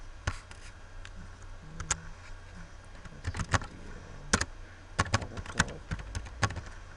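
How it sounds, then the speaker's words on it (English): Keys clack on a computer keyboard as a command is typed, quiet scattered taps arriving in irregular bursts with short pauses between them, close and alone. "we have to type one command like"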